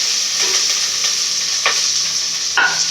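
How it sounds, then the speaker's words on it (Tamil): Onions frying in a pan as the base for a prawn curry: a loud, constant hiss of sizzling oil with a few scraping stirs of a spatula and no talking. "வெங்காயம் போட்டுக்கலாம்"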